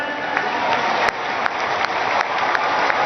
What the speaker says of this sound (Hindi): पुनः एक बार करतल ध्वनि जोरदार अभिनंदन